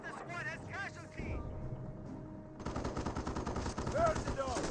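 Machine gun bursts rattle in a Company of Heroes 1 battle between British and Wehrmacht forces, rapid dense crackling fire becoming louder and continuous in the second half, with voices of units talking over it.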